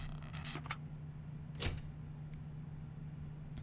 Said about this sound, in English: I heard a door opening.